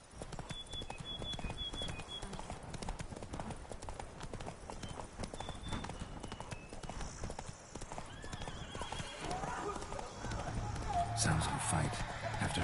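In The Witcher 3 game, the horse Roach gallops with a steady, quick clip-clop of hooves. A whinny and other game sounds come through as the gallop grows louder toward the end, and a voice speaks over it.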